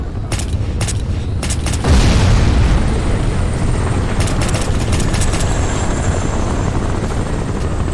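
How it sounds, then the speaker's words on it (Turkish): A helicopter in the video game Crysis Remastered gives a loud, continuous rotor roar, with a heavy boom and gunfire-like bursts early on. "Yine mi helikopter?"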